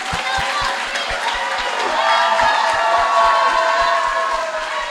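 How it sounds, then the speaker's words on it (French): Children in a school competition audience clapping rhythmically and cheering, loud and close, with crowd voices and shouts mixed throughout. "Les enfants, applaudissez pour vous très fort."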